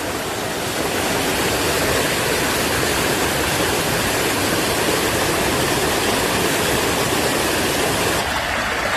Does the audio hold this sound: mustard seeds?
no